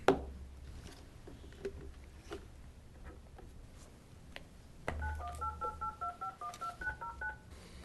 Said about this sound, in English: It sounds like a phone.